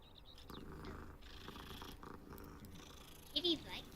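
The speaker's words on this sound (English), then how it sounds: "I pet the kitty cat." A cat in the Hogwarts Legacy video game, in the Transfiguration Courtyard, purs softly and steadily while being petted, a low quiet rumble with a brief brighter chirp near the end.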